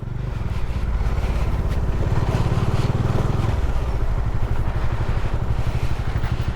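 A motorcycle rides alone along a dangerous mountain road toward Malana village, its engine a steady, loud, close drone with a throbbing low rumble and slight shifts in pitch.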